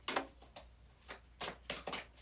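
Quick crisp riffling bursts of playing cards being shuffled, several short rustling flurries in a row, close and fairly quiet.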